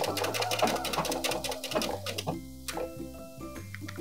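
Sewing machine running a blind hem on a knit cardigan, with the half-inch fold stitched along the serged edge: a steady, close, rhythmic motor hum broken into short bursts and pauses, with no talk over it.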